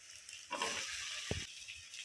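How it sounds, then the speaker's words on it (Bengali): Chopped tomato dropped into a hot pan of oil with turmeric and chilli powder for egg biryani, setting off a brief soft sizzle with a small clunk, then fading back to a quiet hiss. "এবার আমি টমেটো কুচি দিয়ে দিচ্ছি।"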